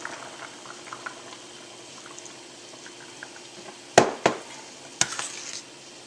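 Stock for turkey and noodles boils in a pot with soft, low bubbling, broken by a few sharper clinks and splashes near the end.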